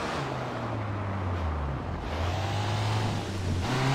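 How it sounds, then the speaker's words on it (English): A car engine idles and hums steadily in the video game Sleeping Dogs, a low continuous drone with slight pitch shifts and no voices. "Keep the engine running."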